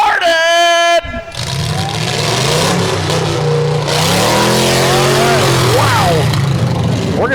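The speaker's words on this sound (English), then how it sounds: "Those first 6 cars, fire them up." Demolition derby cars at an Ohio arena start up and rev loudly one after another, with V8 engines roaring and climbing in pitch over a steady rumble, with an announcer speaking over the noise.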